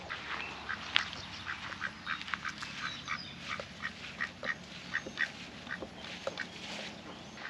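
Ducks quacking outdoors, a string of short, repeated nasal calls in uneven bursts, some overlapping, moderately close against a quiet background.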